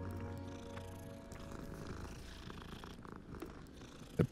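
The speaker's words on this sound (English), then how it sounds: "The purring." A cat in the video game Hogwarts Legacy purrs steadily and softly while being stroked, a low continuous rumble ending with a couple of brief louder thumps.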